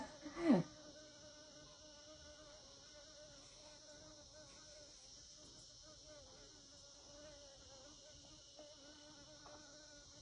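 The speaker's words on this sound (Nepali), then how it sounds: "कस्तो मौरी आएको हौ" A bee buzzes nearby outdoors in the sun. A brief louder swoop near the start gives way to a faint, continuous, wavering drone that lasts the whole stretch, with no talking.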